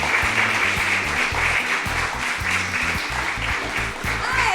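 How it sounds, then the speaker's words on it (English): Audience applause at a student summit: sustained, loud clapping from a crowd, with a music track or sustained tones underneath throughout. "She is another big round of applause"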